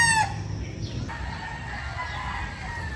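At a small backyard chicken farm, a brief rooster crow or loud cluck opens the moment, followed by a low murmur of farm background sound.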